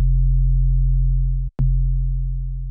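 Deep 808 bass synthesized in Serum, a long sustained sine-like sub tone that slowly fades, briefly cut and retriggered halfway with a click, loud and close with no other sounds.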